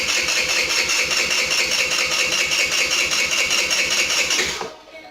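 V-Clic 50 moped engine, kick-started and running, a steady buzzing drone close by that cuts off abruptly near the end.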